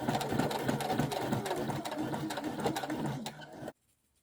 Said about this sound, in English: stitch in the ditch, which is to sew really carefully just under the waistband there